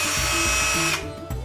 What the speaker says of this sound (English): So here's the drill.